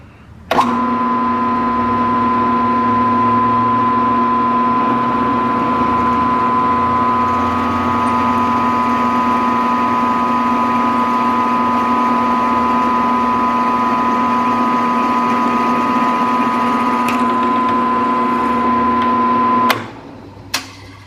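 A power drill bores into metal lubricated with Lubri-Cut, with no pilot hole, giving a loud, steady whine with strong harmonic tones that holds evenly for about nineteen seconds before cutting off abruptly.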